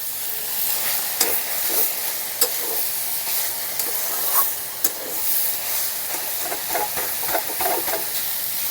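Red amaranth greens frying with garlic in a pan, a steady close hiss and sizzle broken by several sharp clacks and scrapes of stirring.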